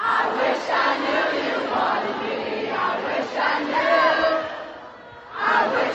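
A large concert crowd at a show sings along to a song, a dense, loud wash of many voices that briefly dips before surging again near the end.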